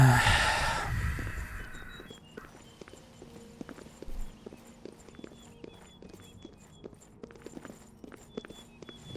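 Horses carrying riding guards clip-clop in the Oblivion video game, a steady train of light hoof taps after a brief opening whoosh, moderately near and without talk.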